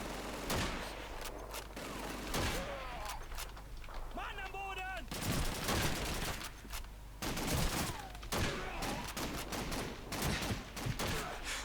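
Rapid gunfire and bursts of machine gun fire fill a Call of Duty 2 battlefield, dense and continuous over a low rumble, with a brief whistling tone partway through and someone talking over it.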